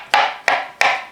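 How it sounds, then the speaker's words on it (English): Knife roughly chopping chestnuts on a board, three sharp chops spaced evenly and close by, with nothing else heard. "we're going to chop up our chestnuts. Just a nice rough chop of our chestnuts"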